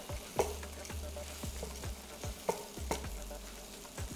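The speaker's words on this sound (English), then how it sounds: "start sauteing them in there" Mushrooms sauté in oil in a pot. A spoon scrapes and taps at a fairly steady rhythm over a low hum and a soft sizzle, quiet and close, with no one speaking.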